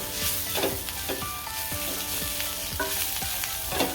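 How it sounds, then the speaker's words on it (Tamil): Potato and mixed vegetables sautéing in a pan, a constant close sizzle with repeated spatula scrapes and clatters at an uneven rhythm. "இப்போது நம்ம உருளைக்கிழங்கு எல்லா காய்கறியும் சேர்த்து நல்லா வதங்கிடுச்சு."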